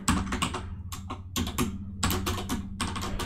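Rapid typing on a computer keyboard, close and crisp, with clustered keystrokes broken by brief pauses and no voices.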